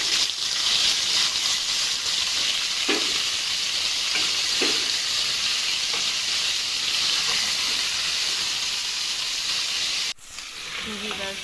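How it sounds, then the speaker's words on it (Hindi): Chicken mince sizzling loudly in a pan with onions for keema karela, a dense continuous hiss with a couple of soft stirring knocks, then a sudden drop and shift near the end; no speech. "अब हम इसमें चिकन ऐड करेंगे और इसे 4 से 5 मिनट अच्छे से भूनेंगे"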